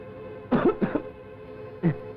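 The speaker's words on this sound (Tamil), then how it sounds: "இருமல்ண்ணே. இருமலா?" Three rough coughs in a Tamil film scene, two close together and a third after a short pause, sounding near and fairly quiet.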